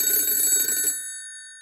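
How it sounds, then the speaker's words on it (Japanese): During an outgoing phone call, a telephone ring sounds as a bright electronic trill with a steady pulsing texture, heard loud for under a second before cutting off into silence. "急遽ジュリ太郎はヤンモに電話をかけた"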